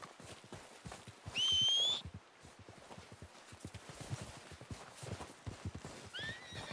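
A horse from Red Dead Redemption 2 trots in with steady clip-clop hooves, whinnying loudly early on and again faintly near the end, the hoofbeats continuing throughout.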